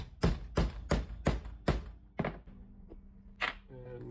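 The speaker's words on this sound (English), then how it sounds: "Then I bounce the shoe upside down on that at the hole punch where we want to cut the hole." A hole punch is struck through the sole of a Vivobarefoot boot resting upside down on a block anvil: five evenly spaced heavy thunks, then a softer knock and a couple of lighter taps, close by.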